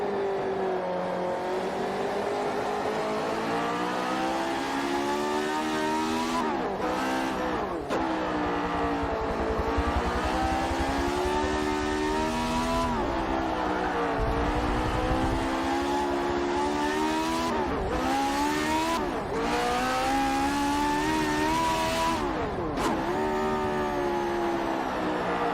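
Old race car engine roaring in Forza Motorsport 7, revving steadily with rising and falling pitch as gears shift, a continuous loud drone broken by short lifts of the throttle.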